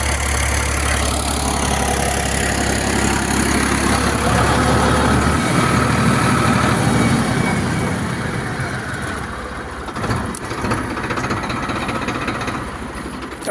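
A Farmtrac 60 PowerMaxx tractor engine running under load with a cultivator, a loud steady low rumble that thins out in the last few seconds, with no talking over it.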